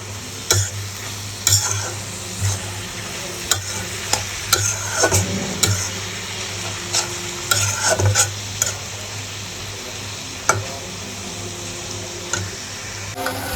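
A chicken and vegetable filling with soy sauce and chili powder is stirred in a frying pan, the spatula scraping in irregular sharp strokes over a continuous low sizzle.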